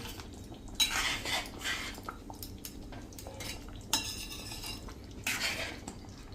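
Cream being stirred into a cauliflower dhokli curry, with a spoon scraping and clinking against the pot in several distinct bursts separated by quieter gaps, close and alone with no talk.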